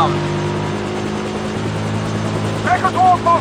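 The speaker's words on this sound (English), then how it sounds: "helicopter inbound." A helicopter in the video game Blood Stone 007 makes a loud, sustained rotor and engine drone throughout, with short bursts of voices near the end.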